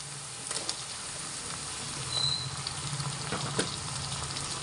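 Chopped tomatoes and onions cook in a pan for a prawn and egg curry, giving a faint, steady sizzle and hiss throughout with no voices.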